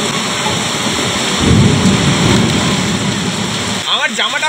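Heavy rain pours down beside a canal while thunder rumbles. A dense, steady roar of rainfall swells into a deep, rolling boom midway, and a few brief sharp sounds come near the end.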